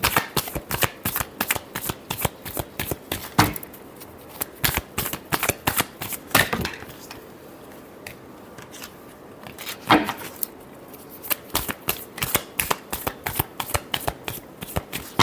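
Tarot cards shuffled by hand in quick rapid riffles and slaps, close and crisp, in several bursts separated by brief pauses.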